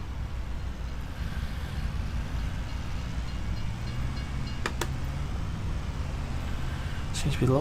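A train rolls past in Farming Simulator on the Riverbend Springs map, making a steady, heavy rumble that holds throughout. A couple of brief metallic clanks come near the end.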